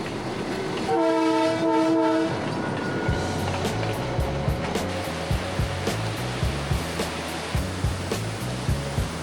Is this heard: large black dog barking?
no